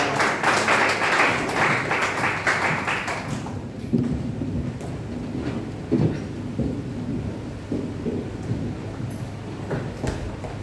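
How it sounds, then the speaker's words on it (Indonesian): Audience applause in a church service, dense clapping for about three and a half seconds that then fades into a quieter room with scattered murmurs and small noises. "Tepuk tangan untuk mereka bertiga."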